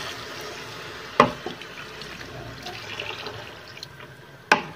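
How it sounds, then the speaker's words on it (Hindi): Water pours into roasted chana dal in a cooking pot, a soft continuous splashing with two sharper knocks against the vessel. "दाल को भूनने के बाद इसमें पानी डाल देंगे।"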